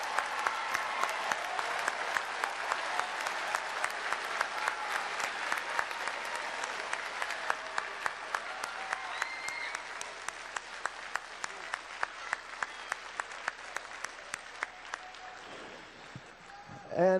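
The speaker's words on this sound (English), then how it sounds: "Students, let's have a round of applause for all of your mentors and coaches and teachers" Students applaud their mentors, coaches and teachers, a long round of clapping from a group that starts dense and gradually thins into scattered individual claps before fading out.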